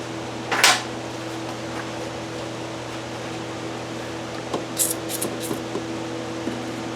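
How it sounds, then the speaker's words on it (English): Silicone lubricant sprays in a short hissing burst onto heater hoses in an Audi B5 engine bay, followed by light metallic clinks and brief taps over a steady low hum. "I'm going to spray some silicone in there to lube things up a little bit"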